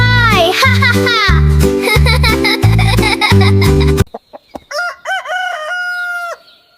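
A loud rooster crows over bouncy music, then a voice mimics a rooster's cock-a-doodle-doo crow alone afterward.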